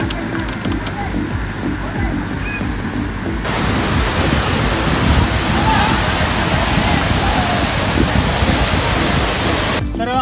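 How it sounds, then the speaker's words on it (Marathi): Dhangar waterfall near Kondeshwar temple in Badlapur roars as a broad, steady rush of falling water, growing louder partway through, with faint talk in the background. "आपण हा पाहतो सुंदर असा हा धनगर वॉटरफॉल"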